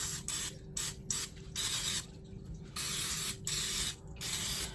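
Short bursts of spray hiss onto a cast iron muffin pan, about six close, even blasts separated by brief pauses, with no voices.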